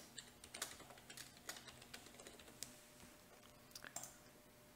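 A password is typed on a computer keyboard, a quick irregular run of light key clicks, close and quiet, with short pauses between bursts and no voices.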